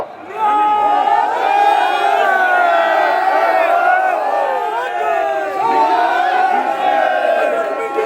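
A large rally crowd in Bangladesh raising slogans together, a dense loud mass of shouting voices sustained throughout, with chanted phrases rising and falling in waves.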